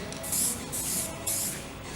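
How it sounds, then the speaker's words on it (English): An aerosol can of etch primer sprayed onto a panel of a 1970 VW Bus in three short pulsed bursts of hissing, close to the mic. "We're just going to get some primer on the panel."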